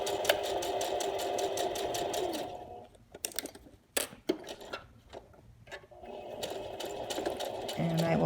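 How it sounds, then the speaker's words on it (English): A sewing machine stitches along the bottom edge of a messenger bag, running in a steady close whir, stopping midway for light handling clicks and taps, then starting again. "even sewing around the bottom edge"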